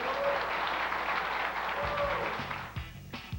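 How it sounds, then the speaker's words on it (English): Studio audience applause from a 1997 infomercial set, a steady full wash of many hands clapping close by, with a low voice starting to speak over it near the end as the clapping thins. "How about a round of applause for both of these guys?"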